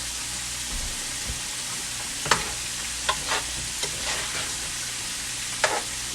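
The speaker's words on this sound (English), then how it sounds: "Give it a stir." Rutabagas simmering in a cooking pot, seasoned with a pinch of sugar, give a low steady sizzle, with a few sharp spoon scrapes and clinks as they are stirred.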